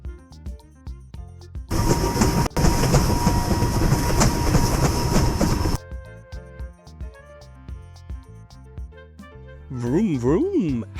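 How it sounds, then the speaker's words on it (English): A train rumbles past with a rattling, clattering roar for several seconds, set between stretches of light children's music, followed by a short warbling tone. "What sound does a train make?"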